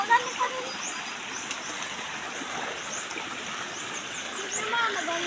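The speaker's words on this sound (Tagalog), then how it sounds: "Sige na, magandang ilog." A forest river runs with a steady broad rushing wash, close and even, while voices talk faintly and birds call now and then in the background.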